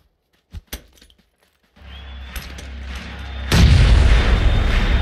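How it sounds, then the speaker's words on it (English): A grenade blows up in the H1Z1 battle royale game: a few faint clicks, then a rising rumble, and a loud broad blast at about three and a half seconds that keeps roaring to the end. "He's gonna run into my nade."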